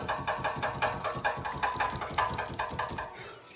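A Honda RSX Type-S with a freshly straight-piped exhaust idles close by, its loud, raw burble pulsing in quick, choppy bursts before it cuts off abruptly near the end.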